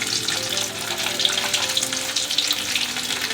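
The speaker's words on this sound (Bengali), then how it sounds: "গ্রেভিটা বানানোর আগে ভালো করে মাঞ্চুরিয়ানের বলগুলো আমি আরেকবার ভেজে নিচ্ছি" Chicken Manchurian balls deep-fried a second time in hot oil make a loud, dense, continuous hiss and sizzle that stays even throughout, with no voices.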